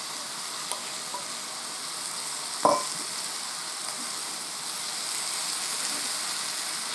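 Shiitake mushrooms go into a hot pan, giving a sharp clatter followed by a steady, even sizzle with soft stirring sounds.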